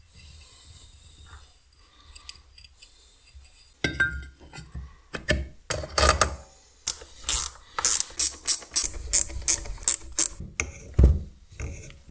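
A ratchet clicks in quick bursts as half-rounded bolts are snugged down on a Fiat Seicento 1.1 8V turbo setup, with sparse metallic clinks first, then a dense run of loud, close ratcheting strokes.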